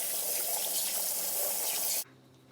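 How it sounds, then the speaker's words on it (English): A tap runs steadily into a sink while someone washes their hands at home, a loud, close, even splashing that stops abruptly near the end and leaves a quiet hum. "Wait, first we have to wash our hands."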